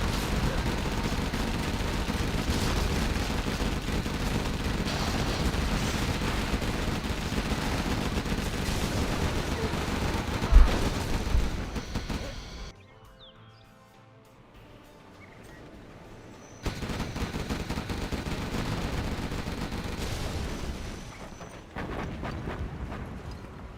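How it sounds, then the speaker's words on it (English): Strategy-game artillery fire booms and crackles in a dense, steady barrage of gunfire and blasts. It drops to near quiet for a few seconds midway, then the loud volley resumes. "Artillery coming in."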